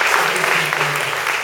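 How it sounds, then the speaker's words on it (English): Audience applause at a book launch for a Singapore proverb book, a steady dense round of clapping filling the short moment without a break. "A round of applause, please,"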